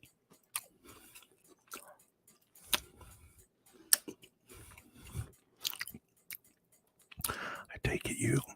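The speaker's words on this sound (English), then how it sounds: "It's a satanic mukbang" Close, quiet chewing and crunching of food during a mukbang, with wet bites and smacks coming in irregular bursts, growing louder toward the end, under occasional soft whispered talk.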